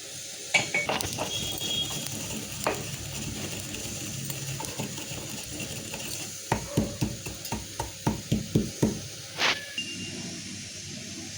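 Roasted spices being pounded into powder for a lemon pickle, with repeated dull thuds that grow into a steady close rhythm toward the end, alongside faint clinks and scraping.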